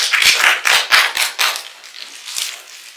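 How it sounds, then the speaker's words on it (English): An audience applauds for Dr. Snow with a burst of scattered, close hand claps that quickly thin out and fade to a few isolated claps, with no talking. "You guys give Miss Dr. Snow a round of applause"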